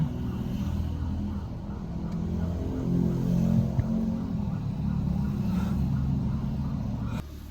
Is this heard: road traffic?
yes